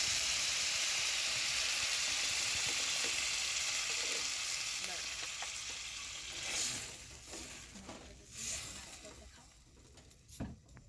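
Potato and egg omelette curry gravy bubbles in a pan with a broad, steady sizzling hiss, fading gradually toward the end and broken by a few louder clatters and bursts, with no talking.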